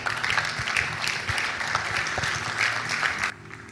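An audience at the FamilyLife Conference 2022 gives a round of applause, dense continuous clapping from many hands, loud and close, ending abruptly near the close.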